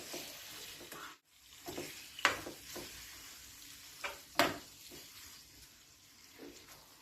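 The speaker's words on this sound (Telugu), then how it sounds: "వీటిని ఇప్పుడు బాగా కలిపి ఒక 5 నిమిషాల పాటు మగ్గించుకోవాలి" Prawn curry with turmeric is stirred in a pan over a soft background sizzle. A few sharp scrapes and clinks of the spoon stand out, close and quiet, with no voices.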